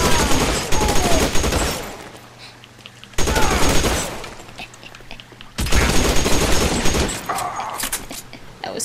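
Heavy gunfire in the L.A. Noire video game, three loud bursts of rapid shots separated by brief quieter gaps, close and dominant.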